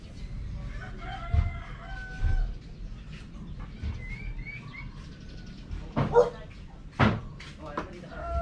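Backyard chickens clucking around a newly built PVC pipe feeder, with a rooster crowing in short bursts, faint to moderate, mixed with background speech.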